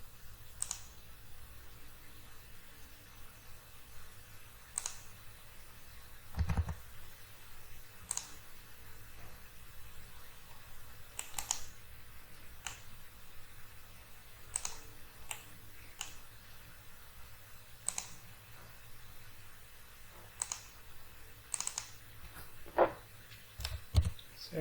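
A computer mouse clicks repeatedly while someone works in CAD software, sharp isolated clicks at irregular intervals, close and fairly faint over a quiet room hum, with no talk.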